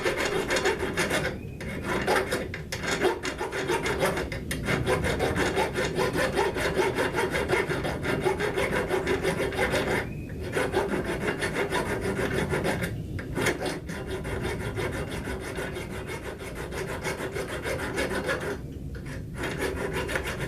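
A hand file rasps metal on a G.I. entrenching tool to clear a burr, with steady close back-and-forth strokes and brief pauses between runs.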